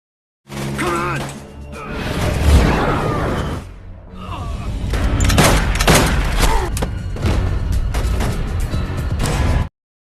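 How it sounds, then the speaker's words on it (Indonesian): Movie gunfight with bursts of gunfire, thuds and crashes, mixed with voices and music, loud throughout. "Ketika sedang berlangsungnya baku tembak"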